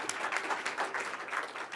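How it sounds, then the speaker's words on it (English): A round of applause at a tourism conference greeting the next speaker, a faint, steady patter of clapping from the audience with no voices over it. "Round of applause."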